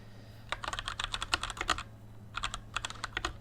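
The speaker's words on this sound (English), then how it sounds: "my clicky clacky keyboard" Fingers tap quickly on a clicky mechanical computer keyboard, two bursts of rapid, crisp key presses separated by a short pause, close and moderately loud over a steady low hum.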